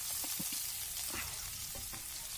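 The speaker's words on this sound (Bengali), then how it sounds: "পেঁয়াজগুলোকে ভালো করে আমি নেড়ে চেড়ে লাল লাল করে ভেজে নেব।" Chopped onions frying in oil left over from frying chillies, a steady, quiet sizzle with a few soft knocks from stirring and no voices.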